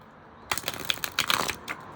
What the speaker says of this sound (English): I feel like I need to do one last riffle shuffle.